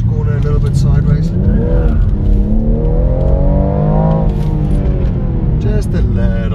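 A BMW coupe's engine revs hard and holds a loud, rising drone as the car slides sideways around a corner, with someone talking over the steady engine roar.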